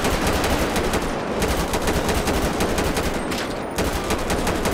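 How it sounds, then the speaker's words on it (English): Rapid automatic gunfire in Grand Theft Auto V fills the scene as loud, dense bursts of shots. They run almost without a break, with a short lull before the firing resumes. "There's a guy that was just shooting at me."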